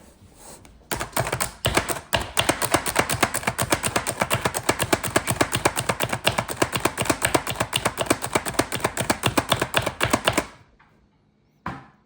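Garlic minced in a mincing device gives a rapid, steady run of close, crisp chopping clicks lasting about nine seconds, then stops, with one more short knock at the end.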